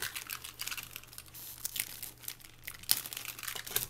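Thin plastic bag crinkles and crackles in quick, quiet bursts as a manga is unwrapped, with a few sharper snaps near the end.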